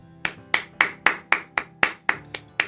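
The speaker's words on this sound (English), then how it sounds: "A round of applause for my Lord Verme, as promised." About ten sharp, evenly spaced claps ring out at a steady rhythm, close and crisp, like a single person clapping a round of applause with no one speaking.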